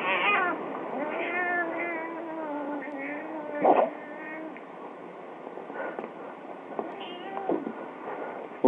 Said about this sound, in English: That raspy meow is priceless.